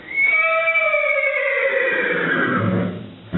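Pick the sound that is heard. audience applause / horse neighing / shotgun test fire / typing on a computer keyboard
horse neighing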